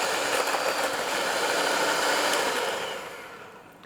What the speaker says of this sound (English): add the brown sugar and the granulated sugar. And we'll go ahead and blend that.